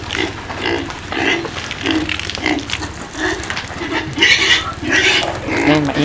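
Native pigs squeal loudly and continuously on a farm, with overlapping shrill cries and grunts that rise and fall over several seconds.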